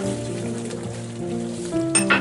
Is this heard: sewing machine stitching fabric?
no